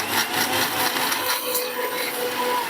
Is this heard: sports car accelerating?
no